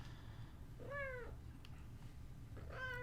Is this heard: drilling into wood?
no